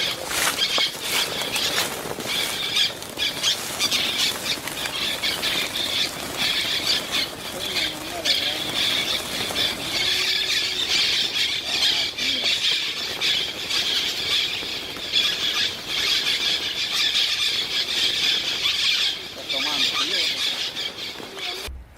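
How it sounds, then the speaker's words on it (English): Many caged birds released deep in a forest call at once with shrill squeals and chirps, a dense continuous chorus with fluttering and patter, close and loud. "Caged birds are released deep in the forest, filling the air with the sound of their freedom."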